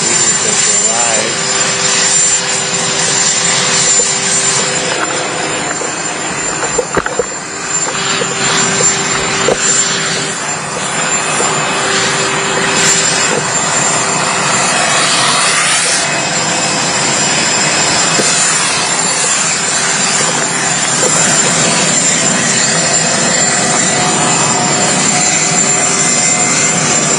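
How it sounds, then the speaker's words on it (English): Jet aircraft carrying world leaders arriving at Calgary Airport, a loud steady engine roar filling the whole stretch with a persistent whine, no clear speech. "Shooting videos snapping stills of planes of world leaders as they arrive."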